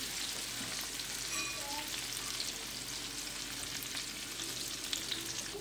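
Fresh vegetables, including onion, sizzle and fry steadily in a hot pan on high heat, a constant crackling hiss with occasional stirring clinks, close and continuous without talk.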